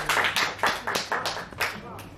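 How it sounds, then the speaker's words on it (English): Bursts of clapping from the audience at a live podcast recording, rapid and uneven over about two seconds, mixed with voices speaking at the same time. "And a big clap for yourselves as well."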